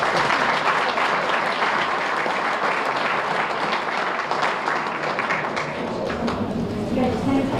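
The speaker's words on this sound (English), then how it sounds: "And let's give them one more round of applause" Steady, dense applause fills an annual high school basketball association banquet hall, clapping holding evenly loud throughout with no break.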